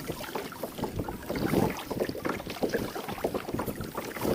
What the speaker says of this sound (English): it's a pretty good breeze blowing out here.